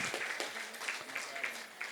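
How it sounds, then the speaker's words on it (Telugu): Scattered hand claps from an audience at the opening ceremony of a pyramid meditation centre, moderately loud and close, mixed with voices. "ముందుగా బ్రహ్మర్షి పితామహ పత్రిజీ గారికి ఒకసారి గట్టిగా చప్పట్లు కొడదాం."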